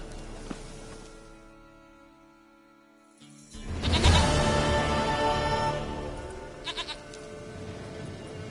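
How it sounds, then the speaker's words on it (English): In The Witcher 3 video game, a goat gives a loud, wavering bleat that rises, holds for a few seconds, then fades, followed by a couple of shorter calls. "Goat of mine, dearest, sweetest goat."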